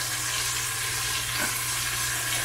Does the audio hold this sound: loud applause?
no